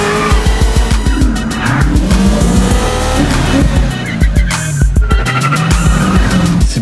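A taxi brakes hard and skids, tires squealing in loud bursts over a roaring engine, with the car racing along in a chase through city traffic.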